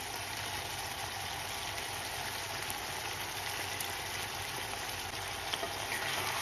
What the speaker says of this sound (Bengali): পাস্তার সাথে আমি সসেসটা ভালোভাবে মিক্স করে নিচ্ছি।